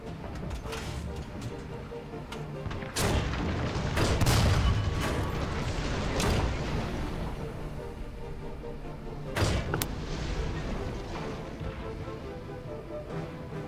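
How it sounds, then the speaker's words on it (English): Enemy tank cannon fire in the War Thunder video game: several heavy booms land a few seconds apart over a steady rumbling engine and battle bed, with one or two sharper, louder blasts standing out. "Same poor little guy still shooting at me too, bless his heart."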